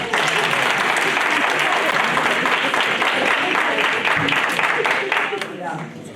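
A crowd at a readathon event gives sustained applause, a thick, even roar of many clapping hands that holds steady and then begins to thin out at the very end.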